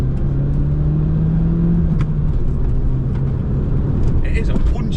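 A Peugeot GTI's punchy little engine pulls hard through second gear from inside the cabin, a loud steady low drone rising in pitch for several seconds with road rumble underneath.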